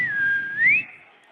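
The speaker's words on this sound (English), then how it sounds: "Whistle a little loud." A single clear whistled tone, rising and sliding upward near the end, loud and close over a low background hum.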